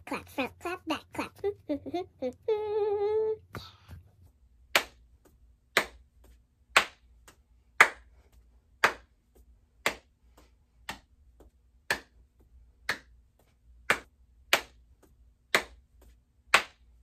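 A children's fitness exercise of front and back hand clapping: a steady run of single sharp claps about one per second, preceded by a brief stretch of voices.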